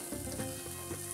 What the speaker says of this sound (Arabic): هقلبها البطاطس مع البصلة بتاعتي